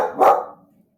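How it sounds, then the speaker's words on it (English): A dog gives a single loud, close bark that trails off quickly, playing the part of a monster dog. "That's my dog Poe imitating a mutt"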